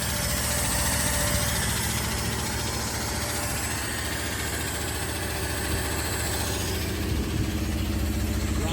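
A turbocharged Ford 300 inline-six in an F100 Stepside truck idles roughly with a faulty carburetor, a steady, uneven engine rumble with vibration that runs loud and continuous throughout, with no talk over it.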